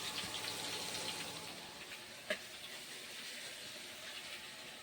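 Hot oil sizzles steadily while spinach (palak) curry fries, a constant broad hiss with one brief sharp click midway and no voices.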